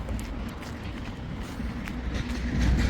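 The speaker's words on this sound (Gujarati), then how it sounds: "હાલો તો ટ્રેન જાય છે, ભેગા બતાવી દઉં" A train rolls past nearby: a continuous heavy, low rumble that swells slightly louder toward the end, with faint rattling over it and no speech.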